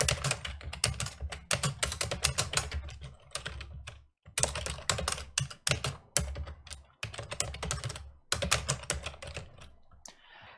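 Code being typed on a computer keyboard, close, quick irregular key clicks in bursts separated by short pauses, with no talking.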